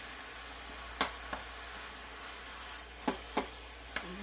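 A pound of ground taco meat cooks in a pan on high heat, giving a faint, steady sizzle with a few soft clicks and scrapes from stirring.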